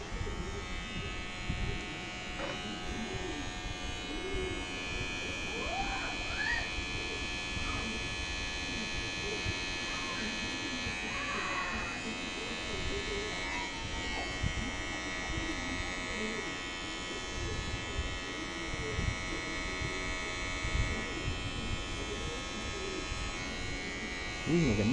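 A UBEATOR electric hair trimmer buzzes steadily while shaving leg hair, its constant close electric hum running throughout as a person talks over it.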